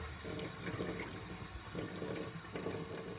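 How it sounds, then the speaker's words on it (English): A kitchen tap runs steadily while raw basa fish fillets are rinsed in a bowl, the water flow a constant close hiss with small splashes and swirls and no one speaking. "empty out that water, put in some fresh, give it a good swirl"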